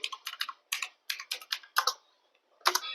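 Keys clatter on a computer keyboard while data is entered into an Excel spreadsheet, in short quick bursts of tapping with brief pauses between them, close and fairly quiet.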